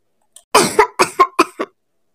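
Kuku, a cartoon bird, coughs in a quick run of five or six sharp, close coughs, clearly voiced and alone, with a short throat sound just before.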